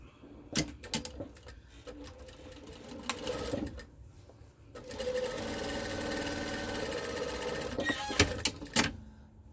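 A sewing machine stitches quilt fabric in short bursts of rapid clatter, then runs in one longer continuous stretch before a few more brief runs, close and fairly quiet.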